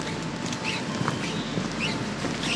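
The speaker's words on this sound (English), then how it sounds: "That's mist falling from the trees." Mist drips and patters from trees on a misty morning in the Nandi Hills, a soft, continuous scattered pattering with faint wind behind it and no speech.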